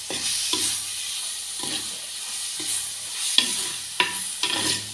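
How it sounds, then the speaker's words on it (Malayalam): Chopped tomatoes are stirred into a frying masala for a soybean meat-style curry, with repeated scraping strokes of a spoon against the pan over a constant close sizzle and no talking. "എന്നിട്ട് നല്ലപോലെ ഒന്ന് ഇളക്കി മറിച്ച് കുഴച്ച് യോജിപ്പിച്ചെടുക്കാൻ"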